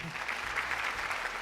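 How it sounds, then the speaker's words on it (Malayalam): Studio audience applause on the set of a Malayalam TV game show, a steady dense wash of clapping from many hands, loud and close, with no voices over it. "നല്ലൊരു കയ്യടി"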